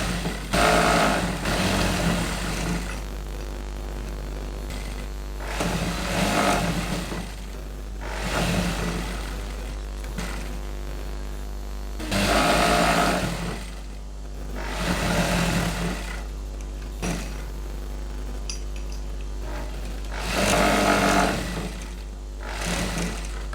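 Sewing machine stitching a blouse lining in repeated whirring bursts of several seconds each, separated by short pauses, close and steady with no talking.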